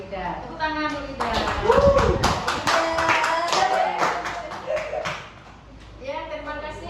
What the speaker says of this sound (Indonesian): Tepuk tangan dulu, Rida